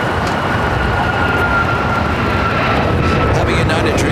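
China Eastern Airlines jet taxiing on a taxiway at LAX, a constant loud engine hum with a faint steady whine, continuous throughout.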